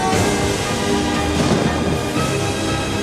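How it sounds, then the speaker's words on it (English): Heavy, continuous storm roar with rumbling low thunder and dense pelting noise, standing in for hail and fire raining from the sky in a plague on Egypt, steady and loud throughout with no voices. "Hail fire rained down from the sky."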